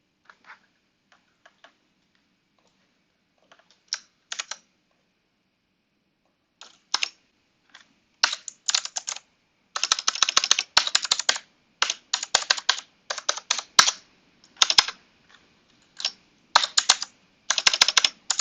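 Password typed on a computer keyboard, with scattered bursts of quick, crisp key clicks that start sparse and grow denser, close and otherwise quiet.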